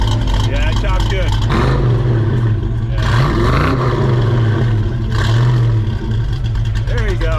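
A Fox Body Ford Mustang with EFI, H-pipe and Flow Pro exhaust revs loudly nearby, its deep choppy engine note rising and falling in several pulls while people talk over it.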